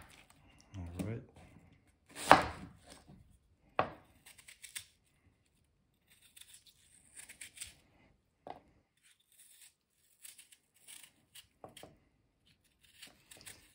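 A Lynx EDC knife slices through a standard apple in a few crisp, crunchy cuts, with brief scraping strokes and quiet clicks scattered between them.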